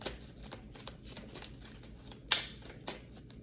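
Oracle cards shuffled by hand, a soft continuous riffling with papery flicks and one sharper snap near the end, close and quiet.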